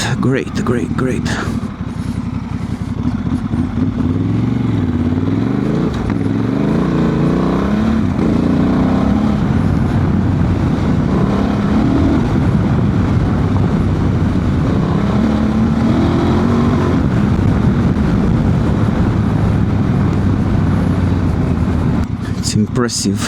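A Honda Transalp 750 motorcycle rides off-road at high speed with a loud, sustained engine drone whose pitch swells and falls as it accelerates, heavy wind rushing past and a rider talking over it.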